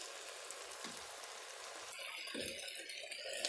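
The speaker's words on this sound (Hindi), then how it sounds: "आंच को हम तेज़ कर लेंगे कि जल्दी से इसका जो टमाटर और प्याज ने पानी छोड़ा है वो खुश्क हो जाए।" Bhindi masala with tomato and onion frying on high heat, a steady hiss of sizzling that grows louder and brighter partway through as the pan is stirred.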